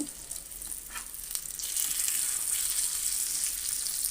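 Fish frying in a pan and turned over onto its other side, a soft crackling sizzle that grows louder and steadier after the flip, heard close and without speech.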